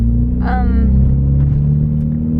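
A Mitsubishi Evo 10 MR fitted with a titanium Tomei exhaust gives a deep, steady idle rumble with a brief blip of revving near the start, loud and close, with no one talking.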